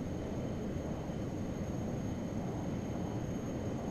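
Steady broadband engine drone of another airplane flying close by in Flight Simulator X, a constant loud roar with a faint high whine, holding level throughout with no talk.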